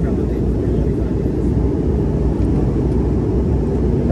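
Steady, loud roar inside the cabin of a smaller passenger airplane as it descends, a dense, unbroken low rumble with no distinct events.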